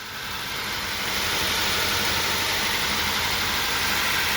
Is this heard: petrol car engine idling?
yes